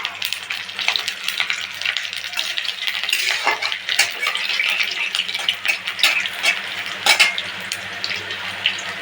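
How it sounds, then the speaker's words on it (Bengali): Garlic, black cumin and dried red chillies crackle and sizzle in hot oil, near and fairly loud, with repeated spatula scrapes and clinks against the pan, and no voices. "কালো জিরা ফোড়নে দিয়ে দিলাম রসুন ফোড়নে দিয়ে দিলাম"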